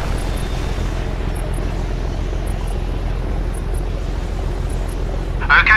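A helicopter in the 2007 PC game Code of Honor: The French Foreign Legion gives off a steady, loud rotor-and-engine drone throughout, with a sharper burst near the end.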